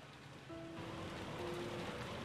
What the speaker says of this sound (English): George, Aniki, and I flew out into the rain.